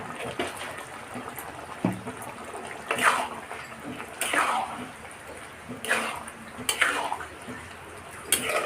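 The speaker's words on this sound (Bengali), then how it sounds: "গরম মশলা আর ঘি দিয়ে আমি আরেকবার নেড়ে দিলাম" A pot of fig curry being stirred after garam masala and ghee are added, with several distinct scraping, clinking strokes of a spoon against the pot spaced a second or two apart over faint background noise.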